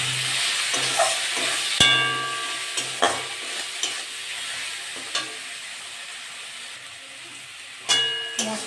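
Spices and chopped tomato frying in a pan for a soybean, potato and pointed gourd curry, with a soft constant sizzle and intermittent sharp metal spatula taps against the pan, with no talking.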